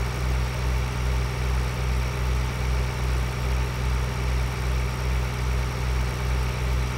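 A tractor engine idles in Farming Simulator 2013, a steady, loud, low rumble with an even pulsing throb that runs unbroken from start to finish with no talk.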